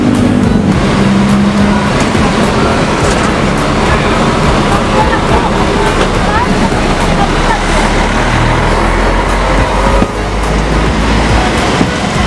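A bus pulls away from a terminal with a loud, rumbling engine and dense roadside noise, traffic and crowd sounds mixed in at close range over about twelve seconds.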